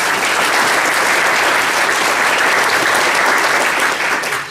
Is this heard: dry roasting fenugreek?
no